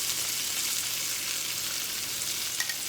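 Onions frying in a pan with liver over heat turned down to medium, a steady, even sizzle and crackle that stays constant throughout with no talking.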